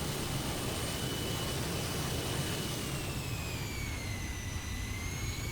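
An airplane engine in Microsoft Flight Simulator 2020 gives a steady, loud roaring drone with whining tones that slowly shift in pitch, continuous and without talk.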